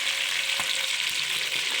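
Onion dropped into hot oil with cooked cumin for a cabbage, potato and peas dish, a dense, loud, even sizzle with a few faint stirring taps.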